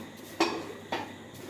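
Metal dishes and utensils clink twice in a quiet room, two short bright knocks about half a second apart, each ringing briefly before fading.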